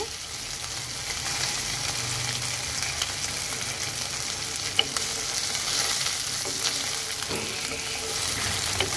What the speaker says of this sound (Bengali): এখন আমি মাছগুলি ছেড়ে দেব। তো মাছগুলো আমি এখন খুব সুন্দর করে ভেজে নেব।